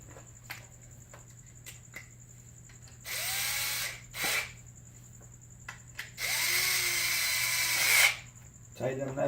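A power driver runs down bolts on an aluminum Duca bike clutch cover in two longer whirring bursts plus a short one, close and fairly loud, separated by quiet clicks and handling.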